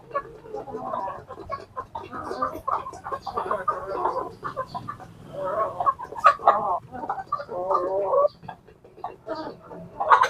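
Farmyard chickens cluck repeatedly as they gather for feeding, with brief louder calls and a faint rooster note among the flock; a voice is heard now and then, and rain is about to arrive.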